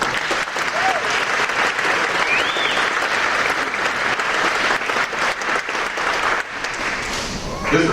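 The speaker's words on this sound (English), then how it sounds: "deserve a round of applause" A large audience applauds warmly and continuously at an 8th grade advancement ceremony, a dense wash of clapping with a few faint whoops and voices mixed in.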